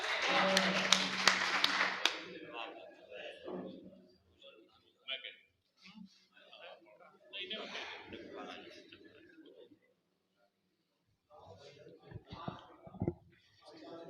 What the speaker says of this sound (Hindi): जोरदार तालियां जनाब शफीक बरकाती साहब के लिए।